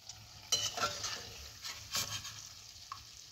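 Gokul pitha, Bengali fried sweet cakes, stirred in hot oil in a pan, with a few bright scraping clinks and bursts of sizzle over a low bubbling hiss, close and fairly quiet.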